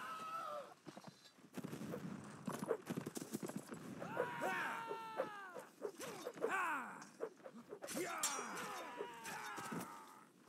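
Cavalry horses in a 65th-regiment line battle video game gallop and whinny amid a busy, faint battlefield din, with hoofbeats and horse calls mixed under voices and distant gunfire.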